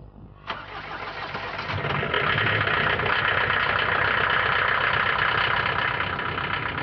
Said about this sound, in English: if you go for the diesel version, as we've got here, your neighbours won't think you're the funniest person in the world when you start it up